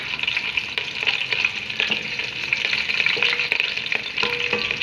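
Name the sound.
whole spices and green chillies sautéing in hot oil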